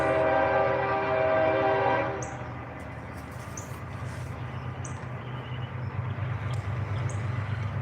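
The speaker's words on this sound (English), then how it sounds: "We got a train coming and I can't hear" A train passes with a long, loud steady horn blast for about two seconds, then a broad rumbling roar of rail cars rolling by continues nearby, with no voices.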